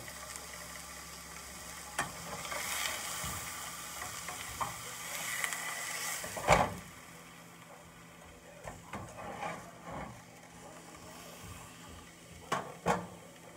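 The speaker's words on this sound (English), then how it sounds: "We're just trying to sear it to get the seasonings cooked on." Chicken seared in a pan after coating with paprika and seasoning salt, a steady low sizzle with occasional scrapes and clinks from stirring, sharper knocks near the middle and end, no voices.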